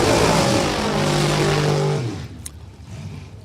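Drag racing cars at New England Dragway roar loudly with steady harmonic engine tones for about two seconds, then the noise drops away to a quieter, distant rumble with crowd and track ambience.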